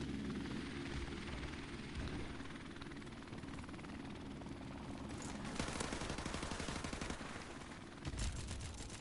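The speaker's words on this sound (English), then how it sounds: "Friendly helicopter on the way." A friendly helicopter arrives in Call of Duty 4, a continuous rotor whir with bursts of rapid machine-gun fire rattling in toward the end, heard at a modest level without talk.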